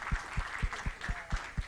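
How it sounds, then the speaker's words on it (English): Workshop audience applauding in a room, a steady patter of clapping with regular low thumps, fairly faint and even throughout. "So give everybody up here a round of applause for all the great advice and great questions and answers."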